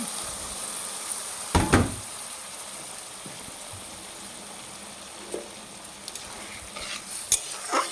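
Pumpkin simmering in mustard paste with a splash of water, a steady soft sizzle and bubbling in the pan, broken by a few brief clanks and scrapes of stirring.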